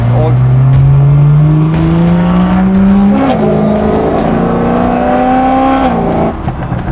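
A BMW 335i's N55 engine revving hard and climbing through the gears, a loud close-up roar rising in pitch with brief dips at each shift.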